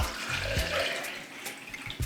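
Water from a measured cup and a half runs into an ordinary cup in a kitchen, a steady close trickle and splash lasting about two seconds with a few small clatters, no talking.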